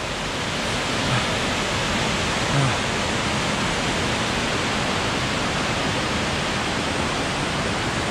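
A spring in the Nouailles gorge gushes strongly, giving a steady, dense rush of water that stays even and continuous from start to finish, with no voices.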